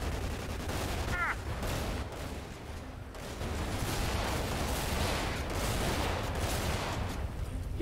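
Sustained gunfire from a GTA 5 firefight, dense and continuous rattling shots at moderate loudness, with a brief lull around the middle before the firing resumes.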